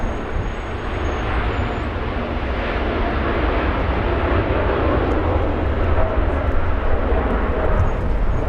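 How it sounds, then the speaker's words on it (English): An All Nippon Boeing 787 Dreamliner comes in to land at LAX, a steady, loud jet roar and rumble that swells slightly toward the end, with no talk over it. "There goes the Dreamliner."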